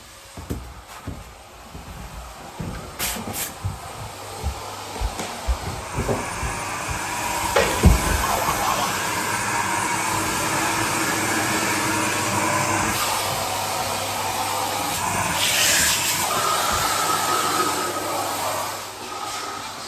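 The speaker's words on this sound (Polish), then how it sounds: "słychać odkurzacz" A vacuum cleaner runs during a big house clean before moving in, a steady whooshing drone that builds in after some knocks and clatter and then continues at a constant level, fairly close.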